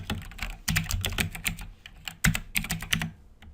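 Irregular clusters of keystrokes on a computer keyboard, close and fairly soft, with short pauses between bursts of typing while text is entered.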